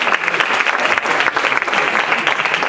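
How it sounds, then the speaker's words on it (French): A church congregation at a Sunday service applauds loudly and steadily, a close, dense wash of many clapping hands with no break and no voices over it. "on peut les applaudir encore"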